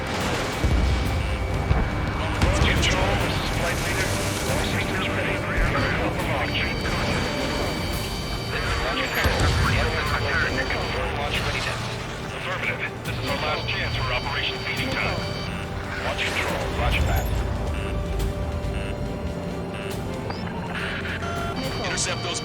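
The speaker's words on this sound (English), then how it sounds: "More bombers approaching. Intercept them now." Bombers approaching amid battle in the video game Anthem: a dense, continuous roar of aircraft engines and rumbling explosions, with steady tonal hums and music-like layers under frequent radio-style speech throughout.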